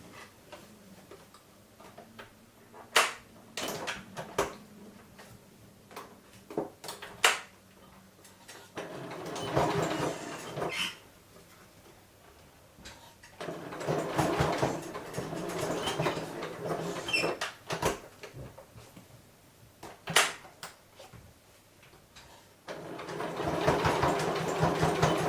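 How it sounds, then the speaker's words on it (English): A sewing machine stitches along the pleated edge of a fabric face mask in several bursts of rapid mechanical whirring, separated by quieter pauses and faint clicks, heard close with no speech. "we're going to stitch right on the very edge all the way down"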